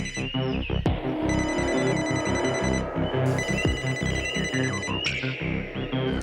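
A telephone rings on an outgoing call in a Hindi rural farming drama series: loud, steady ringing tones repeat in bursts through the clip with no talking.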